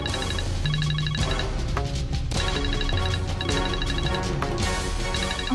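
A phone rings with a repeating electronic ringtone, steady and fairly loud, playing over a busy background of music in a dramatic household scene.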